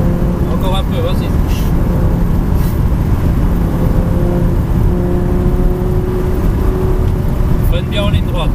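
An Audi R8 V10 on a track at Folembray, its engine a loud, steady, droning roar heard from inside the car, with an instructor talking over it.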